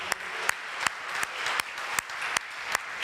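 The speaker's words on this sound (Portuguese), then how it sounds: "Dê uma salva de palmas para Jesus" A church congregation claps for Jesus during a service, a steady rhythmic applause with sharp beats recurring roughly every third of a second, fairly distant and reverberant.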